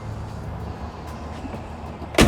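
Door of a 1967 Plymouth Belvedere big block swung shut, one sharp solid thud at the very end after a quiet, low rumbling lull.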